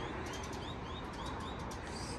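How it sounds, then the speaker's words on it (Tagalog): Faint bird calls, soft chirps and coos, repeat over a steady rushing background noise. "Ang daming ibon."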